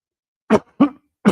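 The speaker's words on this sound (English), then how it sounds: "What's with this cough?" Three short, sharp coughs in quick succession, close and alone against silence.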